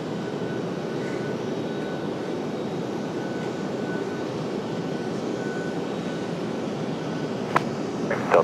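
A Delta jet airliner at RDU airport rumbles steadily with a broad, constant engine roar throughout, moderately loud and unbroken, with a couple of brief sharper sounds near the end.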